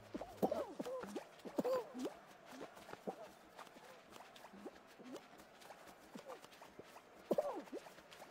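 Horse hooves clip-clopping in a no-build multiplayer video game, a steady run of soft, fairly close hoof beats over several seconds with a few louder accents, while people talk over them.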